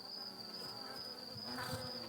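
A hornet hovers in front of beehives, giving a sustained high-pitched buzzing whine that holds steady and faint, with soft outdoor background noise beneath.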